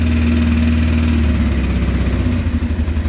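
A 1989 Honda Transalp 600V V-twin motorcycle idles steadily after a cold start with the choke on, a loud, close, continuous low throb that turns slightly uneven and pulsing toward the end.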